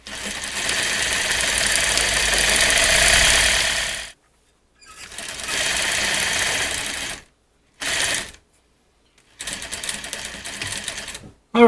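A sewing machine stitches a swag valance in loud continuous runs of rapid whirring, stopping and restarting in shorter bursts with silent pauses in between, and brief speech at the very end.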